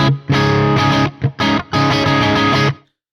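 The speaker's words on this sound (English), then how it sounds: "One of my favorite sounds with these split tones is both inner coils activated at once." Electric guitar through Fishman pickups with both inner coils split, giving a bright single-coil tone in a distorted, effects-laden sound; loud sustained chords and riffs with a few short gaps, played alone without talk.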